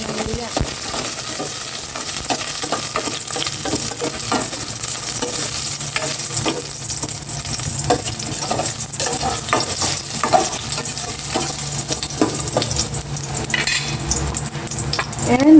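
Ginger hits hot cooking oil in a pan and crackles with a continuous loud sizzle, punctuated by the scrape and clink of a utensil stirring against the pan.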